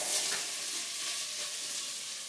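Green onions hit hot, smoking oil in a pan, giving a bright, even hiss that starts slightly stronger and settles into a steady close sizzle.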